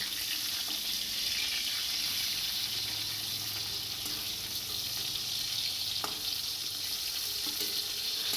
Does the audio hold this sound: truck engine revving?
no